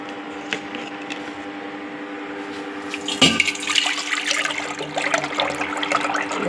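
Buttermilk pours with a splashing, gurgling rush into another pot after churning butter, starting after a quieter stretch of faint clinks and room noise.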